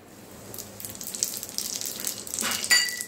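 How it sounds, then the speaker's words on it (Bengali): Radhuni seeds crackle and sizzle as they drop into hot mustard oil for tempering. The frying is steady and moderately loud, with a brighter surge of spattering near the end. "এবার এই রাঁধুনি ফোড়নটা দেব।"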